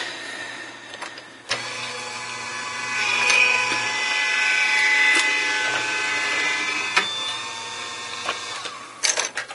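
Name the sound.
embossing folder and cutting dies going through die-cutting machine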